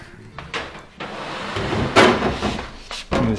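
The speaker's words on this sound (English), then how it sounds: "And then we'll push the dryer back." A gas dryer is shoved back into place against a wall, giving several irregular thumps, scrapes and knocks of its metal cabinet at close range, with no talk.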